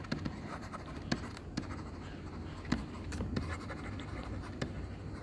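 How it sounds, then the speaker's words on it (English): A pen scratches across paper in short, soft strokes with small taps between them, faint and close, with no voices. "Let's write it down."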